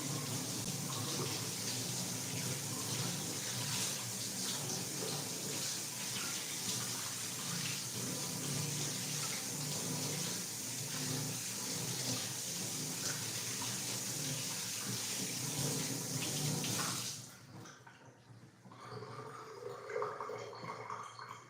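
A kitchen tap runs steadily for about seventeen seconds to heat a cake-smoothing tool, a dense continuous rush of water into a sink that cuts off abruptly, followed by faint handling sounds.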